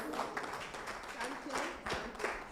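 An audience at a panel session on digital transformation of small businesses in Sub-Saharan Africa claps for the panelists, a steady patter of applause running under a speaker's amplified voice.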